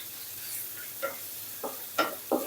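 Green chilies stir-fried in hot oil in a pan for a Thai napa cabbage and minced pork stir-fry, with soft oil sizzle and several brief scraping stir strokes, quiet and close.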